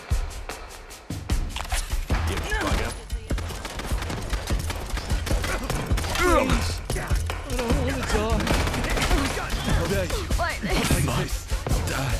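Enemy gunfire rattles in the Fallout London video game, rapid overlapping shots alongside game sounds and someone talking excitedly throughout.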